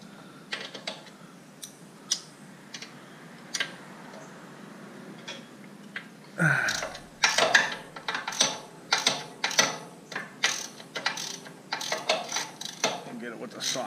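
A Snap-on half-inch socket wrench ratchets under a Bear Cat chipper shredder, a fast run of close, crisp clicks starting halfway through after quieter scattered ticks and shuffling.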